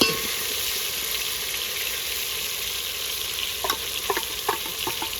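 Secret masala fries in a pan with a constant close sizzle, and a few light stirring scrapes and knocks come near the end.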